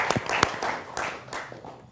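Scattered audience clapping in a television debate studio in India, several sharp individual claps at the start thinning into a looser, quieter patter.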